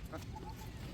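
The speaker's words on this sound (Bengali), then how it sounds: "এই যে হাঁস" Ducks for sale, brought in a basket, give a few short nasal quacks, faint and somewhat distant against low background noise.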